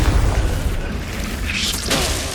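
A Confringo blasting spell goes off in Hogwarts Legacy as a loud, booming burst with a rough, rumbling body that holds through the whole stretch, with a brighter crackling flare near the end.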